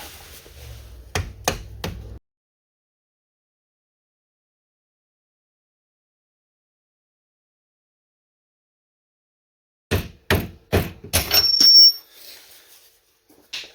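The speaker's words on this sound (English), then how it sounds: "Stick it in the one side, and just going to use a rubber mallet to tap that out." A rubber mallet strikes a punch to drive out a lower rear strut bolt on an Acura TL. A few crisp taps come close together, then silence, then another quick cluster of taps.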